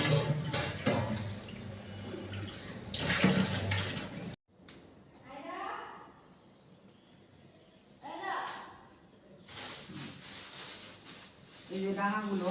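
Water running during washing up at a village home: intermittent splashing and flowing water that comes and goes between stretches of people talking.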